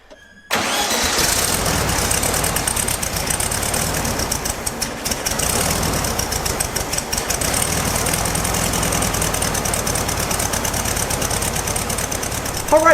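A rebuilt VW Beetle engine, running less smoothly than it should, cranks and catches, then runs loud and steady up close with a constant rattling chug for the rest of the stretch.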